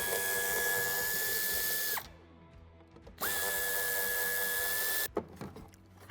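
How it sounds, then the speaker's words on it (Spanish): A power tool whirs through two separate runs, about two seconds each with a short pause between, as it backs out two screws from the fog light of a Nissan NV van, followed by faint clicks and handling noises. "Quitaremos estos dos tornillos."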